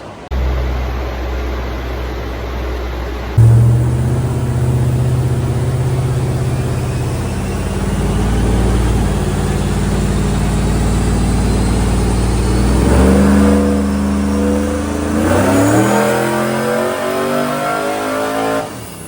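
A car on a dyno making short pulls in second gear, the engine idling then revving up loudly in repeated rising sweeps, close and alone.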